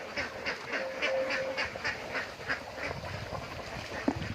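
A group of ducks quacks in a steady, rhythmic run of calls, moderately close, with no talking.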